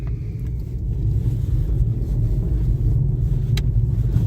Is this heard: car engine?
yes